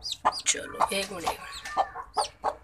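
Hen clucking near a hatchery basket, short repeated calls at close range mixed with someone speaking Hindi.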